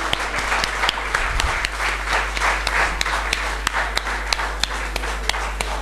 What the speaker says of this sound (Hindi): सभी लोग एक बार जोरदार तालियां बजाएंगे।